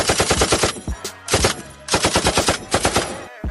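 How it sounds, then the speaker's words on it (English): A gunshot sound effect of machine gun fire plays in loud rapid bursts of rattling shots, with a short pause after the first burst and then another long volley near the end. "let me fire gunshots"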